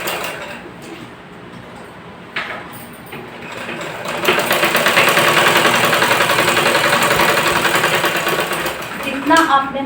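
An electric sewing machine stitches ladies' pant fabric, starting with quiet handling and a click before a steady, fast mechanical whir runs for several seconds and then stops. The machine sounds close and loud.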